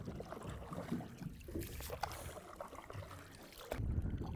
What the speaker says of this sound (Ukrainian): Човен під двигун, але Григорій завжди веслує, сидячи на носі свого судна.